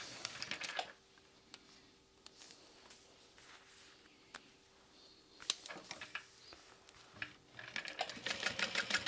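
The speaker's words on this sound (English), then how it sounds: "I'm gonna do a really quick basting stitch around all these sectioned together vinyls though, so that as I'm sewing this, it doesn't come undone." A sewing machine runs a quick basting stitch through sectioned vinyl pieces, with short bursts of rapid needle clatter between pauses, fairly quiet and close, building into a denser run at the end.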